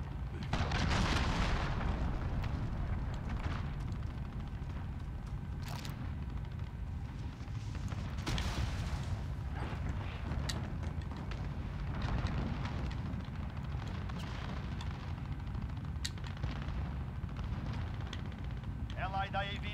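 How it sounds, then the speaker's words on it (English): Cruise missile explosions in the Call of Duty: Modern Warfare beta, a dense, loud wash of booming blasts and rumbling gunfire that rolls on without pause, with sharper bursts standing out every few seconds. "Enemy cruise missile, take cover."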